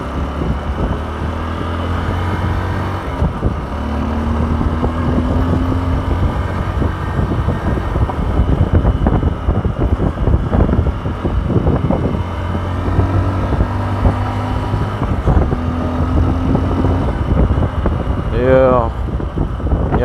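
Honda XR150 motorcycle on a test ride, its engine droning steadily throughout with rising and falling revs, wind rushing over the microphone, and a voice talking intermittently over the noise.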